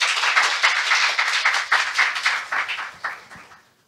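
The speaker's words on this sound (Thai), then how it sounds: "ขอเสียงปรบมือต้อนรับด้วยค่ะ" A seated audience claps to welcome a speaker at an industry seminar, a close, brisk round of applause with clearly separate hand claps that tapers off and stops near the end.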